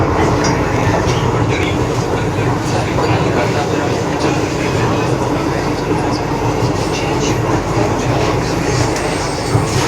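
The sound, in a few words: Delhi metro train arriving at station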